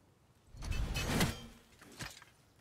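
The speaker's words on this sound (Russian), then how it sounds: "Ты никак не откроешь двери?" A heavy door opening in the video game God of War, a rising mechanical scrape and rumble that swells and then trails off with a second thud, no speech over it.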